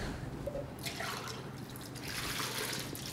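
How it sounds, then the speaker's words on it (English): Water is poured into a pot of coconut soup base with carrot, onion and ginger, a faint trickle and splash that comes in two short surges. "enough water to cover."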